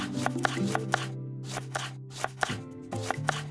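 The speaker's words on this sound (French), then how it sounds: "Tailler le poireau en rondelles." A knife chops a leek into rounds on a cutting board, giving a quick, close series of crisp, regular taps with brief pauses between them.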